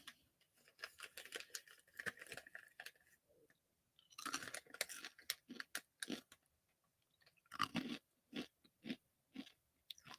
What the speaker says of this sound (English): I should have got something that wasn't so loud to chew